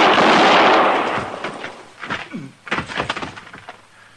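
Gunshots ring out in a shootout from a 1950s Western radio drama, Gunsmoke: a big loud blast with a long decaying roar, followed by several sharper cracks and thumps, standing alone without talk.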